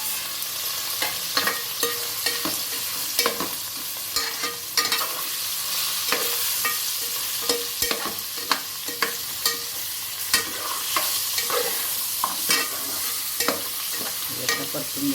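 Goat mutton with turmeric sautéing in a pan for Kolhapuri mutton masala, a constant sizzle punctuated by regular sharp scraping and stirring knocks from a utensil, close and fairly loud with no talk.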